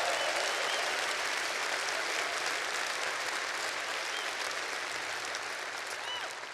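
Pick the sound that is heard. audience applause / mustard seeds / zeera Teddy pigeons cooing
audience applause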